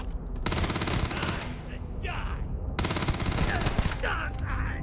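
Grendel gun in the video game Starfield firing in long, rapid automatic bursts, loud and close, with a short gap between strings of shots and a voice talking over the gunfire.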